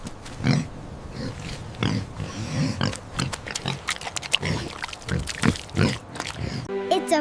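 A pig oinks and grunts over and over in close, loud, irregular bursts, with a brief different sound at the very end.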